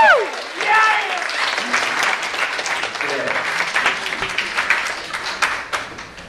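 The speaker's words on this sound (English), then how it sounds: "So please give them a round of applause." Wedding guests applaud at a reception, a full burst of clapping with some cheering that swells and carries on steadily for several seconds, with voices mixed in beneath it.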